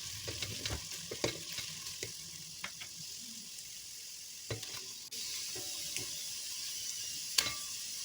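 Onions sauté in butter in a pan, a moderate sizzling hiss broken by frequent utensil scrapes and taps as they are stirred, with no talking.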